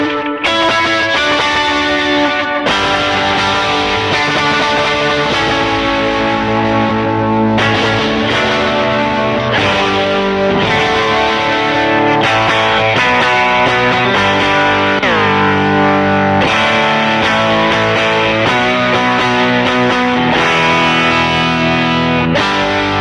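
Electric guitar run through a stacked chain of reverb, delay and overdrive pedals, a sustained, distorted tone with washing ambient tails, played continuously at steady loudness for over twenty seconds with no talking.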